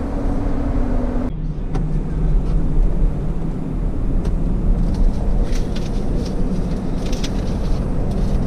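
A 2017 Ford F-250 Powerstroke pickup drives loaded with about 4.39 tons of clearstone, its engine and road noise a loud, continuous low rumble heard from inside the cab, with faint clicks along the way.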